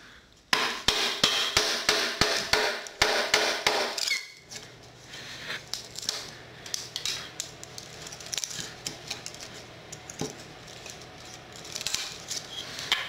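A wide 2-inch chisel is driven into wood with a string of sharp, evenly spaced mallet blows, close and loud. Quieter scraping and paring follows, with the odd tap.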